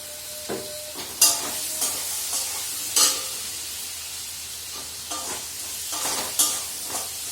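Vegetables fry with cumin powder in a home kitchen, a soft sizzle under irregular stirring and sharp utensil clinks and scrapes spaced a second or so apart, close and moderately quiet, with no talking.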